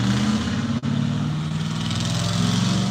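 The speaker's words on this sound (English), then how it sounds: "And you hear that truck sound?" A truck engine runs at a steady, high rev, loud and close, droning continuously with a brief dip before settling back into the same throbbing hum.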